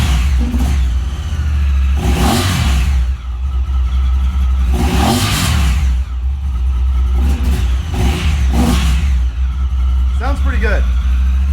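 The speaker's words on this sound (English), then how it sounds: "Rev it up, see how it sounds." Honda Talon 1000R side-by-side engine fitted with an aluminum snorkel intake, revved hard in several bursts that rise and fall over a steady idle, close and loud with someone talking near the end.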